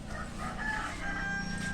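A rooster crows loudly and close, one long drawn-out call filling the moment with no talking.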